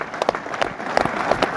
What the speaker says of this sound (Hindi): ताली इतनी धीरे बजाओगे तो तुम्हारे लिए कौन ताली बजाएगा? तुम्हें भी तेज बजानी पड़ेगी।